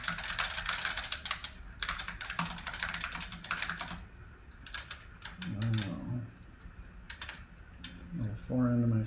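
Clicky keystrokes from a vintage IBM-style Model F computer keyboard, typed in fast close bursts during the first half, then sparser, with someone talking over the later part.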